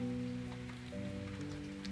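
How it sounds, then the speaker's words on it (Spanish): Steady rainfall outdoors, a soft continuous patter heard faintly at a distance beneath a low hum, with no talking. "En este momento está lloviendo, no sé si escuchas. Sí, llueve."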